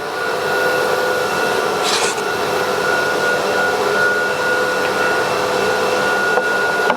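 The vacuum table of a CNC router runs to hold material down, making a loud, constant whooshing drone like a big vacuum cleaner. A brief clunk comes partway through, and no one speaks.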